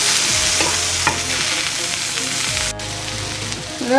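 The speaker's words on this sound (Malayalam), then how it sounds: "ഇത് നന്നായിട്ടൊന്ന് ഇളക്കി കൊടുക്കാം" Eggplant and tomato with curry leaves are stirred in a pan, spatula scrapes and clacks over a steady frying sizzle, heard up close.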